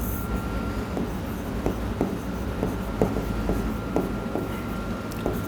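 Chalk or marker writing on a board during a polity class lesson, a steady run of scratchy strokes with small regular taps roughly every half second over a constant room hum, no talk.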